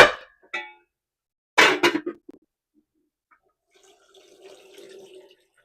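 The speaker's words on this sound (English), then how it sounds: "let's drain our noodles. Get the water off of them." Hot water poured off cooked lo mein noodles, a brief loud splashing rush after a short clatter, then a softer trickling and dripping tail as the pot drains.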